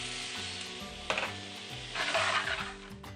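Shrimp and squid frying in a pan, a steady sizzle with occasional stirring scrapes and clinks over a soft music bed.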